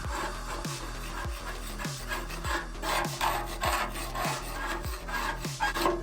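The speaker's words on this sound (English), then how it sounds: "So just got a wire brush with a scraper on the back of it. Just taking off some of that chunky nastiness" A wire brush with a scraper on its back scrapes flaky paint off metal in rhythmic, repeated strokes, each a short gritty rasp with a dull knock, close and fairly loud.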